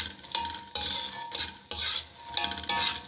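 Flax seeds fried in desi ghee and stirred in a pan, giving repeated bursts of scraping and rustling over a steady low sizzle, close and moderately loud, with no voices.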